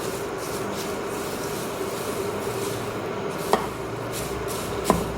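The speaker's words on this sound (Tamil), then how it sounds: "இப்போ கருவேப்பிலை நல்லா முடமுடச்சு போய் இதை நல்லா உடையுது பாருவோம்" Dry-roasted curry leaves crackle and break while rasam powder is made at home: soft, dry rustling under a steady background hiss, with a couple of sharper clicks near the end.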